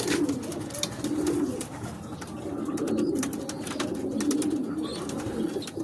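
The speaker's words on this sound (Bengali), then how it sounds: "ওই ব্লাড লাইনেরই আরও একটা পায়রা" Pigeons of a single bloodline, held in a home loft, coo in a low, continuous rolling murmur that swells and fades throughout, with faint chirps above.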